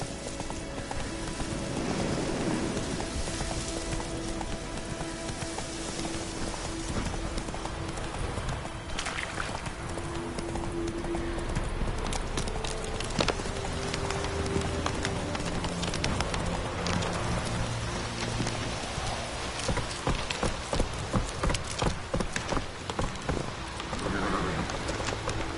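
Roach, a horse in the Witcher 3 video game, gallops with steady clip-clop hoofbeats through a dense game soundscape of ambient noise and scattered bird calls.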